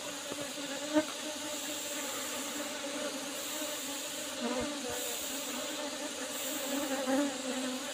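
Apis cerana honey bees buzzing steadily during a comb harvest, a faint continuous hum with a few louder passes close by.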